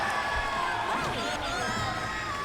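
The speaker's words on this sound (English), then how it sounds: "Crowd pounding KDZ really loud." A crowd at an Evo 2009 Soul Calibur 4 tournament match roars loudly and without a break, with shouts and whoops rising out of the dense, steady noise.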